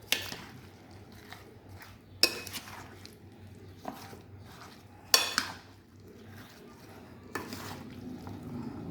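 Spoon stirring creamy fruit chaat in a bowl, with sharp clinks and scrapes against the dish at intervals over a soft, steady background hum.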